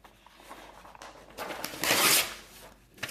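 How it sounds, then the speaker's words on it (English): A piece of paper has its edge torn off by hand, a short close rip that swells to a brief rustling burst and then fades, with a small crinkle at the end. "So all I've done is I've just torn an edge off a piece of paper"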